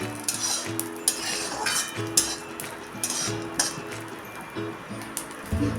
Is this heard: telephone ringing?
no